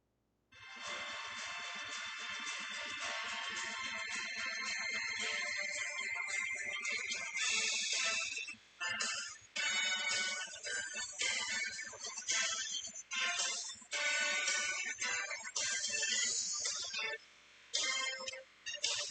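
Movie score music played back through a phone speaker held away from the microphone, fairly loud and continuous, with a few brief dropouts toward the end.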